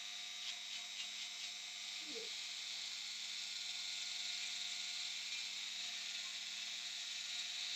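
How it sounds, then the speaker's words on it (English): A standard drill bit bores out holes in the tie rods of an RC car, giving a steady, high, buzzing whine that runs unbroken and fairly close throughout. "Just a normal standard drill bit will do the trick."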